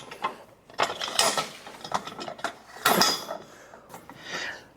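The telescoping crossbar of a Collins dolly is pushed along its length, giving a string of irregular metallic clacks, ratcheting clicks and sliding scrapes, close and fairly loud, with brief pauses between the bursts.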